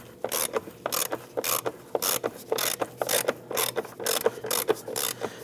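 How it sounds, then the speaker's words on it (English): A ratchet on stacked extensions works a 10mm battery clamp bolt on a 2009-2017 Volvo XC60 3.2L inline-six, making a steady run of close, crisp clicking bursts, with no talking. "use my ratchet."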